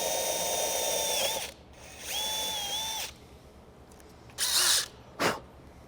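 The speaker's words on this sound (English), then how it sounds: "I'm just gonna go ahead and do the rest of the holes with the 1/8 inch drill bit" Power drill with a 1/8 inch bit boring holes for a Sherpa Grizzly roof rack on a Toyota Tundra, two steady whining runs close by, followed by short bursts of clatter and a sharp hiss.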